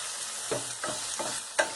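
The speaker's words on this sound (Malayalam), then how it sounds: "നന്നായിട്ട് ഇളക്കി കൊടുക്കണം." Browned onions and garlic sizzle in a hot pan for a chicken curry as a spoon stirs them in four distinct scraping strokes over a steady frying hiss, close and moderately loud, no voices.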